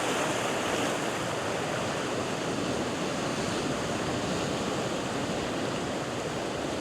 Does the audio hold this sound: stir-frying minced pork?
no